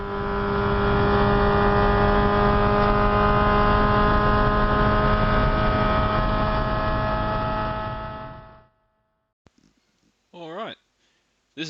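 A 2001 Mazda MX-5 lapping the Phillip Island circuit, its engine a steady, loud, sustained drone from inside the car that cuts off, followed by a brief bit of talking.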